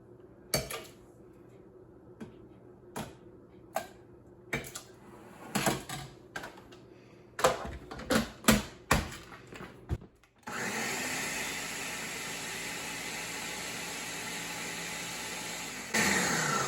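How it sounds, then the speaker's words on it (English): A series of sharp clinks and knocks, then a blender roars on steadily for several seconds pureeing about 28 ounces of canned tomatoes, its pitch shifting slightly near the end. "So I'm gonna go ahead and put about a 28 ounces of these tomatoes in the blender here."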